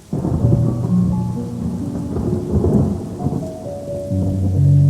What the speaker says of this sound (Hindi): सावन की पहली फुहार, रिमझिम बारिश, बारिश में खुशी से झूमते पौधे